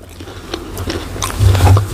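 Close, moist chewing and soft crunching of crispy fried pork liver coated in light batter, with irregular bites over a low background hum.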